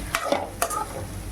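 A spoon stirs grated coconut through chickpea sundal in a pan, a few soft scraping strokes and light clinks close by, fairly quiet with a faint sizzle beneath.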